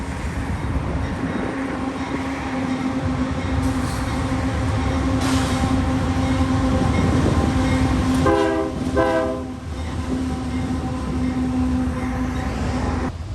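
Trains passing on the railway near the Union Pacific Big Boy locomotive in North Texas, a continuous heavy rumble and steady tone of rolling cars, with a few short horn blasts near the end.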